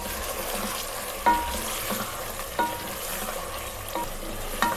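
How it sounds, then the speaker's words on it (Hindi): Garlic added to chicken frying in a pan, a continuous close sizzle with a few soft stirring clinks and scrapes on top. "देखिए, लहसुन डाल रहे हैं।"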